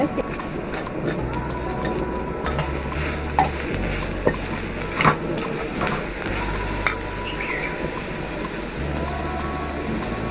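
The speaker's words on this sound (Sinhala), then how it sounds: "අඩු ගින්දරේ මේ විදිහට හොඳට කලවම් කරගන්න." Sugar sambola, a sweet Sri Lankan onion relish with sugar, salt and Maldive fish, stirred in a pan over low heat, giving steady soft scraping and faint sizzling with a low continuous hum and occasional clinks.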